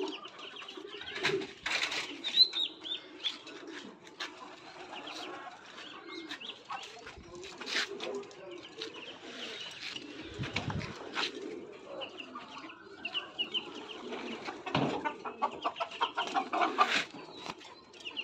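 Backyard chickens and pigeons in a home poultry and dove coop, with soft clucks and coos scattered over roughly eighteen seconds at moderate distance, a few louder bursts and occasional faint voices in the background.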